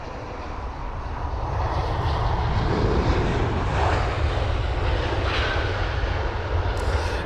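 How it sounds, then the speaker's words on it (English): A loud, steady roar of aircraft engines at London Heathrow fills the air, a dense broadband rumble that swells slightly and holds without pause. "I don't want to be talking over the engine sounds"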